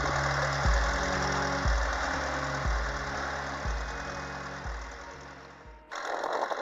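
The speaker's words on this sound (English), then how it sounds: "the 2-horsepower motor just goes and goes" A small 2-horsepower outboard motor runs steadily at a low, thumping idle-like pace with rhythmic pulses, close and continuous, cutting off briefly near the end before rumbling again.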